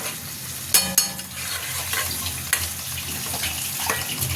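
A fish curry with eggplant and potato sizzles steadily in oil in a pan, with a few sharp clinks of a utensil over the continuous frying hiss.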